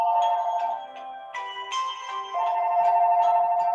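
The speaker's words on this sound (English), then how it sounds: "Yeah, that's my phone." A mobile phone ringtone plays loudly and clearly as a melodic sequence of bright electronic tones, with note changes and a steady repeating tune and no talk over it.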